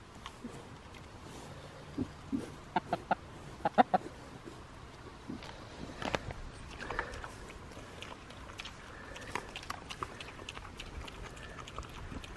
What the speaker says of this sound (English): That crazy chicken scaring you.